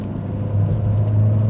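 Dacia Sandero at full throttle, its engine droning steadily and rising in strength as it pulls toward higher revs, loud and close from inside the cabin with no talk.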